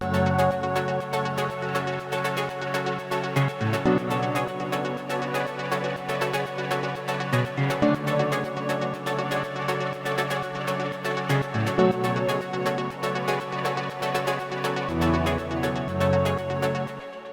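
A full afro house drop groove with shifting bass notes, layered synth plucks and pads, and constant bright percussion plays loud and continuous throughout.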